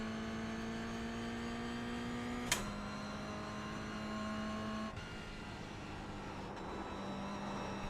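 Race car engine in a sim racing game during a 100-lap Summit Point community event, a steady held engine tone with harmonics rising slightly after a sharp click near mid-clip, continuous and close, no talking.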